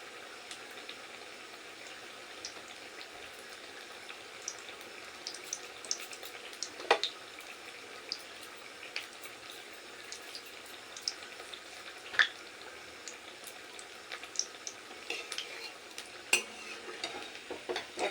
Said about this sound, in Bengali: এবার একটু টাইম নিয়ে সাবধানে এপিট করে আমি কাঁকরোলের টুকরোগুলোকে ভেজে নেব